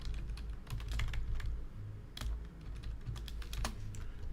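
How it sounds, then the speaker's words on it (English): Rapid typing on a wireless computer keyboard, a close series of crisp key clicks in uneven bursts with short pauses, heard alone over a faint low hum. "There's something going wrong with my my wireless keyboard."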